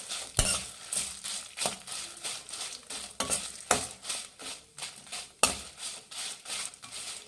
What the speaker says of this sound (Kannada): ಬ್ಯಾಡಗೆ ಮೆಣಸಿನ್ಕಾಯಿ ಇದನ್ನು ಹಾಕಿ ಚೆನ್ನಾಗಿ ಫ್ರೈ ಮಾಡಬೇಕು ಫ್ರೆಂಡ್ಸ್